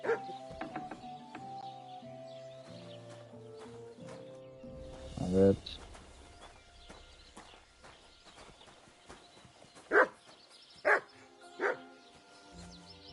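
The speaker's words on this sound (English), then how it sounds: "Good dog." A dog in the video game Kingdom Come: Deliverance 2 gives several loud, close barks, one early and a quick run of three later, over footstep-like clopping, with a person talking briefly.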